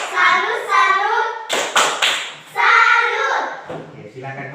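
Classroom clapping as students applaud a group, with children's voices and cheering chants mixed over and between bursts of hand claps.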